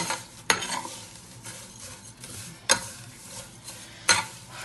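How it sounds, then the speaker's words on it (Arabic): Kunafa being stirred and tossed in a pan, with a soft continuous scraping and light sizzle punctuated by three sharp utensil clacks against the metal, close and without talk. "تقلبي الكنافة كويس جدا."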